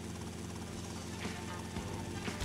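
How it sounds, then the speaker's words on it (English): A helicopter in the video game GTA Vice City gives a steady, dense rotor and engine drone that fills the short moment, with light game sounds faintly underneath. "Helicopter, wanna kill it?"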